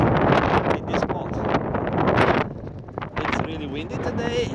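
Strong wind buffeting the microphone outdoors at a military aircraft museum in Comox, Canada, roaring in loud gusts under someone talking.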